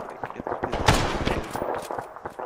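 A squad opens fire on a jeep during a World War II Salerno battle in a video game, several sharp gunshots cracking in an uneven burst around a loud central blast.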